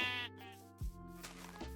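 Sheep in the Minecraft video game bleating, two or three wavering, buzzy bleats in quick succession, clear and up front with no talking over them.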